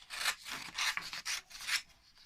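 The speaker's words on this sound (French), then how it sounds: "Et là, je vais découper mes feuillages." Scissors cutting through paper foliage for a handmade flower crown, a series of four crisp snipping rasps in an even rhythm, close and fairly quiet, with no talking.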